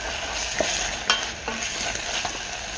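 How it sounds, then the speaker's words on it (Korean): Meat stir-fried in a pan for yukgaejang ramen, a continuous close sizzle broken by several spatula scrapes and taps, with no talking. "잠깐 볶을게. 다시 고기랑 같이 볶아서"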